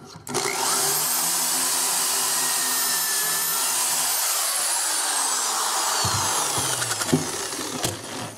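A power drill bores pocket holes through wood clamped in a Kreg K4 jig, a steady loud whine running nearly the whole time, easing and wavering near the end with a brief knock.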